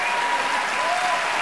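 A studio audience gives dense, sustained applause at an evening show, an even wash of many hands clapping at a steady level, with no single voice standing out.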